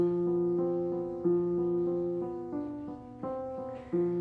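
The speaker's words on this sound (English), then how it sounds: "I'm going to start with the original grand piano sound that this keyboard offers" A sampled grand piano plays sustained chords that change every half second or so, clear and close, with no voices.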